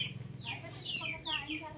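Free-range laying hens cluck and chirp close by inside their enclosure while someone talks over them, the birds' calls rising and falling throughout.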